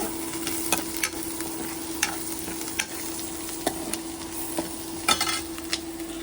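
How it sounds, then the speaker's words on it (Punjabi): Steady sizzling of spices frying in hot oil, with sharp clicks and scrapes of stirring scattered throughout, close up and without talk. "ਹੁਣ ਆ ਕੇ ਤੜਕਾ ਲਾਉਣੇ ਆ"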